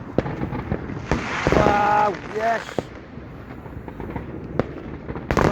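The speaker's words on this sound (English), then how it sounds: "You don't have to pay to go to a fireworks display." A fireworks display goes off in a loud run of booming bursts and crackles, with sharp bangs continuing afterward. Excited voices speak briefly over it.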